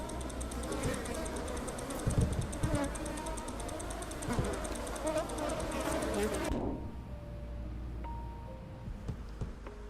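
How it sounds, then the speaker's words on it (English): Flies buzzing in a supermarket simulation game, a dense steady insect drone with rising and falling pitch that cuts off abruptly partway through, leaving quiet background sounds and faint clicks. "I just don't want to hear the flies buzzing."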